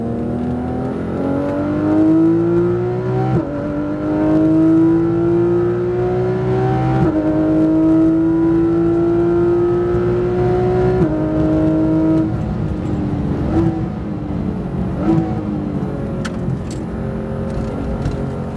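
A Porsche GT3 RS laps a race track at Speed Vegas, its engine loud and close throughout, rising in pitch through steady acceleration, then dropping sharply at each upshift, with repeated surges over the stretch.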